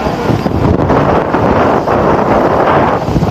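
Strong gusts buffet the microphone at the Nhạn Tower during the Tết holiday, a loud, continuous rumbling roar that swells and dips but never lets up, with no speech.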